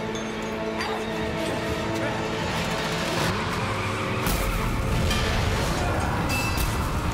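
A car is driven in the Mad Max video game, with a steady engine drone and rising revs that swell louder partway through, under excited talking.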